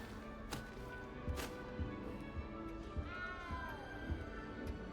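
A cat in the video game Hogwarts Legacy meows with a drawn-out, wavering cry near the end, over a steady game soundscape of music and soft thumps.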